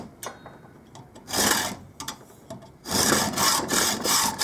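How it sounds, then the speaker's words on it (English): Hand saw cutting a groove into a bolt's thread with light strokes, heard as rasping metal scrapes in short back-and-forth bursts close by, quieter early and steadier later, with no talk. "just draw backwards with nothing more than the weight of the blade, just the weight of the saw."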